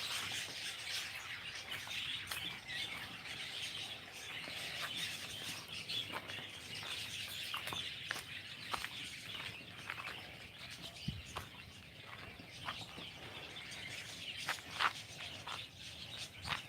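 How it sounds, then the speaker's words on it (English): Birds sing and chirp steadily in a garden, a dense layer of bright tweets and calls carrying throughout, with faint insect buzzing underneath and no voices. "and the birds."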